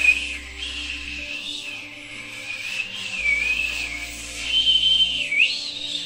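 A person who cannot really whistle attempts it, producing a thin, airy wavering whistle that slides up and down in pitch continuously for several seconds, close and moderately loud.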